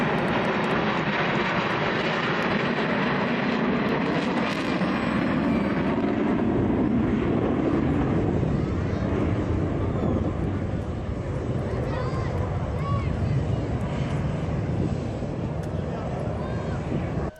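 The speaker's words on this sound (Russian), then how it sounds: "Это ромб, составленный из боевых самолетов Су-35С и МиГ-29." Su-35S and MiG-29 fighter jets fly in diamond formation at the Kubinka air show, a sustained loud engine roar that swells and drifts overhead while someone talks over it throughout.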